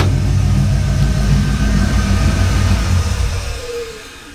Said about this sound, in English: you kind of hear the whistle right after the engine stops